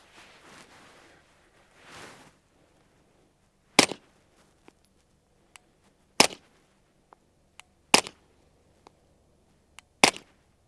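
Suppressed 9mm pistol shots with 147 grain Remington ammunition, four sharp cracks spaced about two seconds apart, each loud and abrupt with a short tail, separated by small clicks and quiet handling noise.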